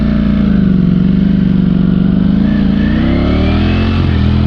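A Ducati Streetfighter V4S or Triumph Speed Triple 1200 RS motorcycle pulls away with a loud, close engine drone that holds steady and then rises in pitch as it accelerates.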